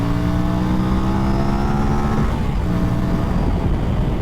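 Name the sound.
Aprilia RS457 motorcycle engine revving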